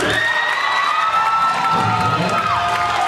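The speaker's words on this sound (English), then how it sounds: "Give a round of applause for John." A crowd at a luau cheers and whoops loudly and steadily, with shrill, high voices rising above the din and some clapping mixed in.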